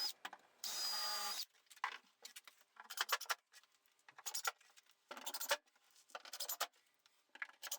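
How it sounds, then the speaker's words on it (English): A drill and driver sink pilot holes and screws through plywood into mitre saw station supports, giving a steady whir followed by repeated short buzzing bursts and clattering handling noises, moderately quiet. "I pilot and screw the plywood into the supports to make sure it's nice and rigid and solid"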